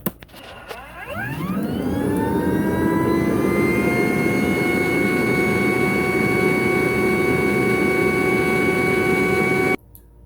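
A Rainbow E2 Black canister vacuum cleaner runs a sealed suction test, spinning up with a rising whine into a loud, steady, close motor drone that holds for several seconds before cutting off abruptly.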